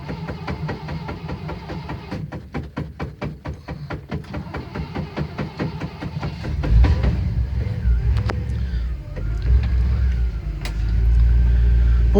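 A 1962 Chevy Impala two-door sports coupe is cold-started: the starter cranks in a quick rhythmic chug for several seconds, then the engine catches and settles into a loud, steady rumble.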